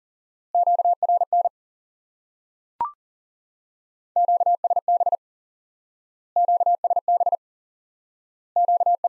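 Morse code sending QSB, a clean steady-pitched tone keyed in four repeated groups of dots and dashes separated by silent gaps, with a single short pop early on.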